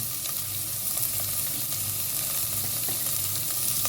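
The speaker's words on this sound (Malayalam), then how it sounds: "സവാള ഇട്ട് അതിൻ്റെ കൂടെ തന്നെ ഞാൻ വെളുത്തുള്ളി ഇടുന്നുണ്ട്" Onion, garlic and ginger sautéing in oil in a pan for fish curry, a loud, dense and continuous sizzle with faint stirring scrapes throughout, no voices.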